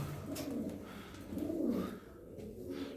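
Pigeons, which appear to be Austrian king pigeons, coo in low, rolling bursts, with one swell near the middle and a quieter one at the end, over a steady outdoor background.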